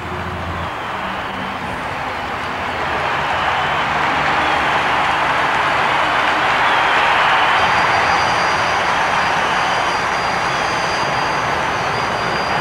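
A twin jet turbine tractor rated at 8,000 horsepower makes a pull at a Tampa, Florida tractor pull event: a loud, sustained jet roar that swells and holds steady for the whole run.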